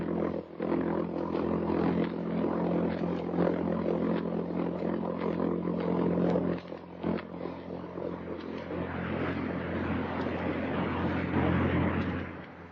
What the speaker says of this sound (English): It's the sound made by the jet-propelled buzz bomb, Hitler's weapon of vengeance.